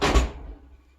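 A warming drawer on a full-size propane stove in a tiny house shuts with one solid, close thunk that fades quickly into quiet.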